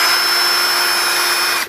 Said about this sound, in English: drill out the inside a little bit,